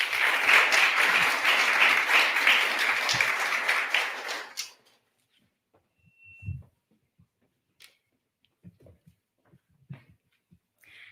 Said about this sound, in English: So please join me Big round of applause for your outgoing Connecticut Kid Governor,